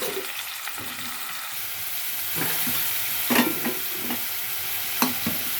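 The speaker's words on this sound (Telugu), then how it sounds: "దాంట్లోనే ఉల్లిపాయలు, పచ్చిమిర్చి కూడా వేసేస్తాను" Onions and green chilies frying in hot oil in a kadai, a steady close sizzle with occasional scraping stirs and small crackling bursts.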